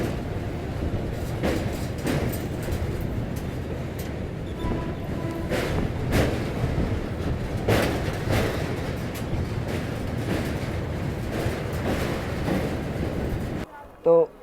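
Marudhar Express (14854) train rumbling across a bridge over the Yamuna river near Agra, a loud, steady broadband roar with periodic clanks, heard close from inside a general coach, continuing until an abrupt cut near the end.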